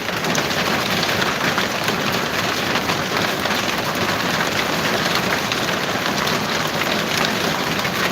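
Heavy hail and rain pound down during a severe thunderstorm under a warning in Kansas, a dense, steady roar that stays loud and continuous throughout with no voices.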